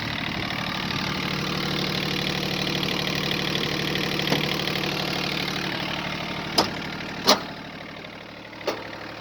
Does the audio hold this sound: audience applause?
no